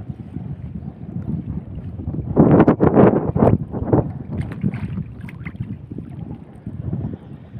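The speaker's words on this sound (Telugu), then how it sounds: "ఒకటే గాలి ఎక్కువైంది ఫ్రెండ్స్." Strong wind gusting across a lake while fishing from a small boat gives a continuous low roaring rumble, swelling into a louder, rougher blast for a couple of seconds before settling back to a steady buffet.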